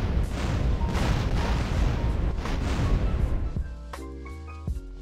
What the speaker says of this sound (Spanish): chocaremos con unos aviones Hydra, haciendo que CJ muera por la explosión